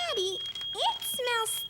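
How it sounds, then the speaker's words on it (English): Smoke alarm triggered by burnt toast in a cartoon kitchen, a steady high electronic tone sounding throughout beneath animated voices and a child's chatter. "My toast burned and set off the fire alarm."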